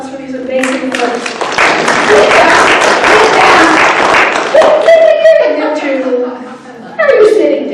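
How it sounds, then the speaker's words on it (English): A book-talk audience gives a round of applause, loud, full clapping mixed with chuckles and laughter, and voices talk over it as it tapers off. "So one more round of applause for these amazing folks."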